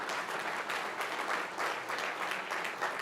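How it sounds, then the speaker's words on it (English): Audience at a sustainability conference in Hamburg clapping for young delegates, a dense and steady round of applause from a sizeable crowd heard at some distance. "A big applause for our young delegates here."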